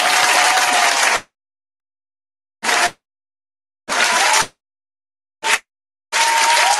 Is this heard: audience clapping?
yes